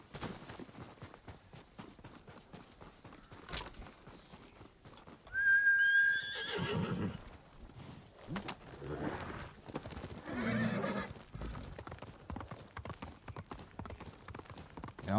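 A horse whinnies loudly midway in Ghost of Tsushima, surrounded by rhythmic hoof clip-clops, with quieter snorts and movement around it.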